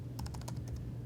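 Quick bursts of keystrokes on a Chromebook keyboard, about eight soft clicks in an uneven run, close but quiet over a low steady hum.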